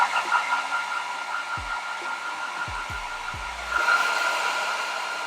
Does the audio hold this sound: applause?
no